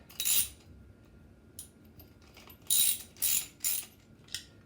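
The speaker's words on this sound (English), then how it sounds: "And then just tighten it up." Nylon lock nut being tightened on a navigation buoy: a few short metallic ratcheting bursts, including three close together near the end, quiet and near with no talk.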